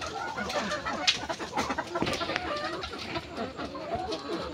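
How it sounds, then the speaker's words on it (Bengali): Native desi chickens on a small poultry farm clucking steadily at close range, a busy flock of overlapping short calls with no speech. "দেখেন কি সুন্দর চমৎকার দেশি মুরগি।"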